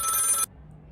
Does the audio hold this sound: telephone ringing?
yes